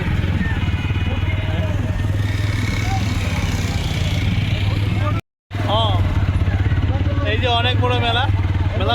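A motorcycle rides home from a village fair, its engine droning steadily and loudly up close with wind buffeting, then a sudden brief cut, while people talk over it.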